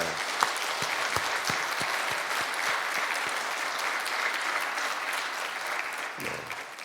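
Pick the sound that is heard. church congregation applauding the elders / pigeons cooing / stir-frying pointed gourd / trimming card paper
church congregation applauding the elders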